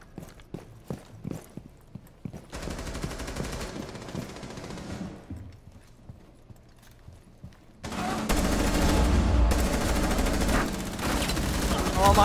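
Rapid automatic gunfire in a Rainbow Six Siege round, scattered shots early on, then a dense, loud sustained burst in the final seconds with a few footsteps mixed in.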